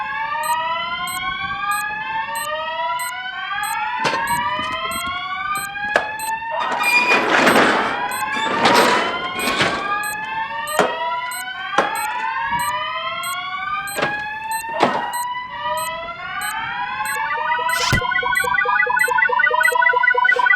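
A school fire alarm sounds during a fire drill with repeated rising electronic whoops, punctuated by clunks and bursts of noise from doors or movement, loud and continuous throughout.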